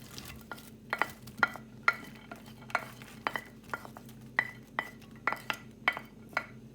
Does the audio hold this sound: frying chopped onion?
yes